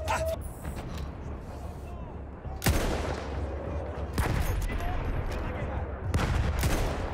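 Battlefield 1 gunfire cracks out in a few sharp, loud bursts spaced several seconds apart, over a rumbling battlefield backdrop with a player talking in between.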